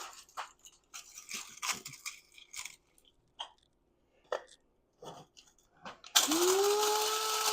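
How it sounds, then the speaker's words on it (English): An old bean grinder pulverizes oven-baked eggshells, kicking in with a loud, steady motor whir and gritty crunching near the end, after scattered rustling and tapping of shells being handled. "That's why I like using an old bean grinder."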